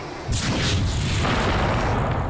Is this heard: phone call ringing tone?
no